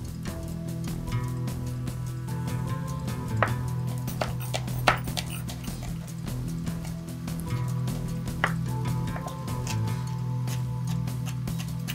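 Five or six green chillies are chopped very fine on a board, a quick run of sharp knife taps and thuds over a low steady background hum, with a few louder strikes scattered through.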